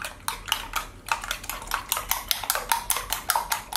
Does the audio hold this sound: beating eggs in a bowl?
yes